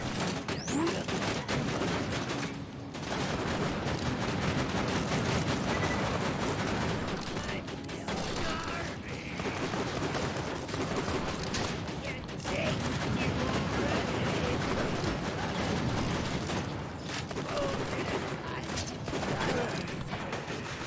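Steady, dense automatic turret fire in the shooter game Borderlands 2, continuous rattling bursts with mechanical clatter, loud and sustained under faint voices.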